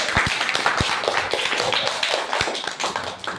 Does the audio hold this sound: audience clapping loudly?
yes